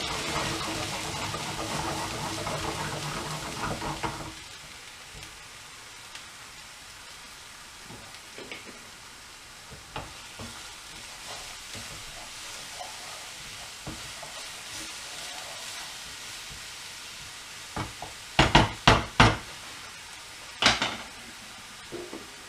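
Pureed onions cooking in oil in a pan: a loud sizzle at first that settles into a quieter, steady bubbling hiss, with a few sharp clinks and scrapes of stirring near the end.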